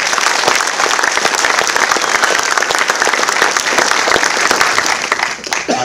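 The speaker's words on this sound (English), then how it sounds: "So let's give him one more round of applause." An audience at a 2012 KCK Preps award ceremony applauds loudly and steadily, dense clapping filling the room without a break, easing off slightly at the very end.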